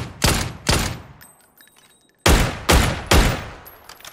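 Unsuppressed Dragunov sniper rifle shots in PUBG, loud and sharp, two cracks, a pause, then three more in an even rhythm, each followed by a short echoing tail.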